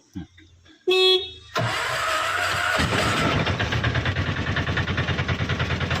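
A diesel auto rickshaw engine cranks and catches after a short horn toot, then settles into a loud, rhythmic, chugging idle close by with no talking over it.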